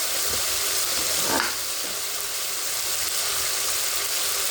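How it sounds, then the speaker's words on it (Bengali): Garlic sizzling in a hot pan with onion, cinnamon, cardamom, cloves, bay leaf and ginger for a spicy country chicken curry, a steady broadband hiss with a brief stir-scrape partway through, close and continuous, no talk. "এখন পরিমাণ মতো রসুন দিয়ে এখন ভালোভাবে নাড়াচাড়া দিয়ে দিলাম"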